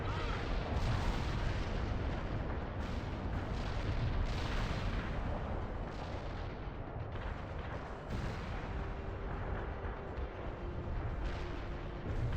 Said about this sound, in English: Artillery barrage turned the target area into dust.